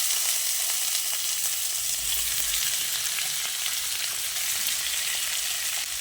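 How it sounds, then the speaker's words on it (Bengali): Chicken pieces fry in oil over a high gas flame, producing a loud, dense, continuous sizzle that holds steady from start to finish with faint stirring underneath. "এখন গ্যাসের ফ্লেমটা হাইতে করে চিকেনটাকে তেলের সঙ্গে কিছুক্ষণ ভেজে নিচ্ছি"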